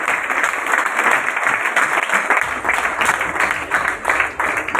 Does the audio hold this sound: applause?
yes